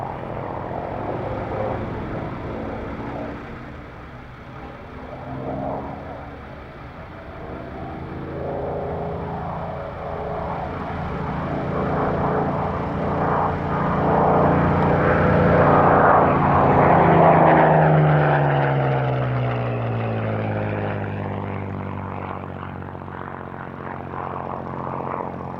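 Spitfire fighter, converted to a two-seater, flying over Duxford airfield at an airshow; a loud, sustained propeller engine drone rising and falling as the plane passes, with a clear Doppler sweep near the end.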